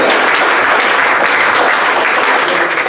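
A room of people at a club and property owners' association board meeting applauds, dense steady clapping close by for a few seconds.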